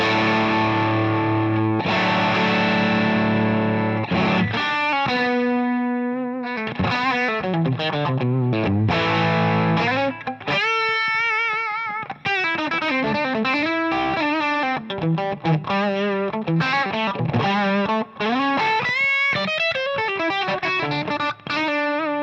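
Heavily distorted electric guitar through a Rat distortion pedal, playing a continuous melodic line with sustained notes and bends, loud and saturated throughout, no voices.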